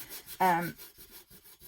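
Sandpaper is worked over a junk journal cover in a few quick, soft rubbing strokes, with one brief louder scrape near the beginning. The strokes are close and short.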